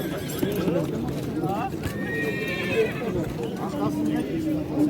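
Horses whinny with long wavering calls at a busy horse market in Nookat, against steady hoof clip-clops and the chatter of a crowd.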